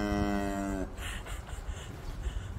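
A cow with her newborn bull calf in a barn, one loud drawn-out moo at the start, followed by quieter shuffling and rustling movement.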